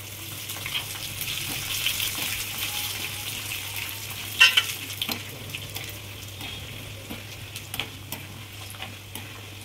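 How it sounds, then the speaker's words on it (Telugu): Chillies frying in tempering oil with curry leaves for a tamarind dish, giving a continuous close crackling sizzle with scattered ticks and pops and one brief louder spatter midway. "ఇప్పుడు మిరపకాయలు కూడా వేసేసుకుంటున్నాను"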